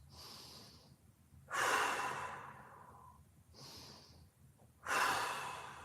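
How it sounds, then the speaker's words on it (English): Two slow, deep breaths during a mobility exercise, each a soft inhale followed by a louder, airy exhale, close and fairly quiet. "Two more big breaths."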